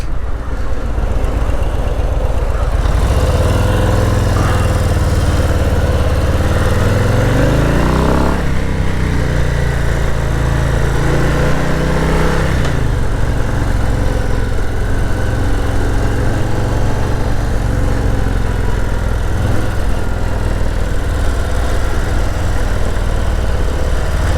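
A 2022 Harley-Davidson Low Rider S motorcycle engine roars loud and close while riding, its pitch climbing through repeated accelerations and gear changes under strong wind rush.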